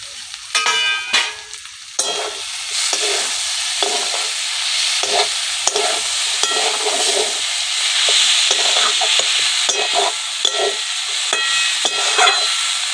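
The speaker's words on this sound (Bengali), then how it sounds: "তুলে আমি আরেকটু নাড়িয়ে নেব।" A spoon scrapes and stirs chicken in a hot frying pan, with rhythmic scraping strokes over a continuous close, bright sizzle.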